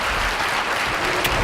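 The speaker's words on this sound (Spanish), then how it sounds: "un aplauso, por favor." An audience claps together at a conference talk, a dense, steady burst of applause filling the room for the whole brief moment.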